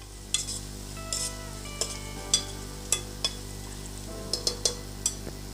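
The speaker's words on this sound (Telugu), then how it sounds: "ఆనియన్స్ వేగడానికి కొంచెం చిటికెడు ఉప్పు వేస్తున్నాండి" Onions sizzle as they fry in a pan with a pinch of salt for mutton keema pulao, a steady hiss broken by repeated light scrapes and clinks of a stirring spoon, close and clear with no talk.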